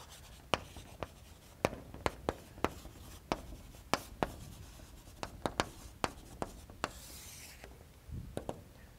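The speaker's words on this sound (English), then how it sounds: "So let me write de Ligne here" Chalk tapping and scraping across a blackboard during a mathematics lecture on local systems in arithmetic geometry, a run of sharp, close strokes and taps in an irregular rhythm with brief scratchy rubs between them, no voice.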